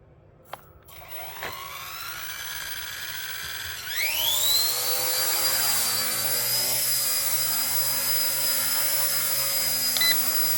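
An RC ERA 1/48 scale Huey model helicopter spins up, its small motor whine rising sharply in pitch, then holds a loud, steady high buzz as it lifts a heavy load close by.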